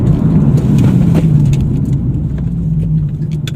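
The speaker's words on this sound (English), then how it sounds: "Alright, so I'm at 60 now, there's no cars behind me. I'm going to brake." A Nissan 370Z brakes hard on a road from 60 mph, a loud close rumble of the car slowing down with low engine and tyre noise that continues steadily.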